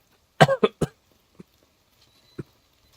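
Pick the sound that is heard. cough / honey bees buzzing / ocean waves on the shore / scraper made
cough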